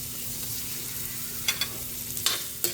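Garlic and onion frying in a pan for sweet and sour, a soft, faint sizzle under a low hum, with a few sharp stirring clinks and scrapes near the end.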